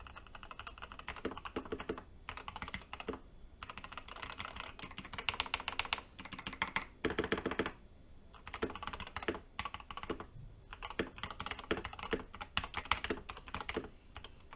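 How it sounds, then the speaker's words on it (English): Rapid typing on a mechanical keyboard during a typing test, a dense, uneven stream of close clicky keystrokes with brief pauses between bursts. "I'm just going to do a typing test because I just want to do a type test"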